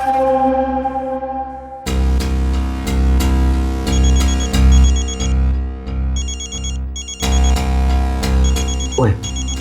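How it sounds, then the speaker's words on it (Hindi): A phone ringtone plays loudly with a repeating melodic pattern of bright electronic tones, ringing continuously without any talking. "आपका फोन आ रहा है"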